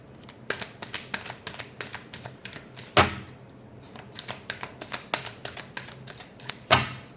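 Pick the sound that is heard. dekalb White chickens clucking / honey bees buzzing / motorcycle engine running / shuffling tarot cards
shuffling tarot cards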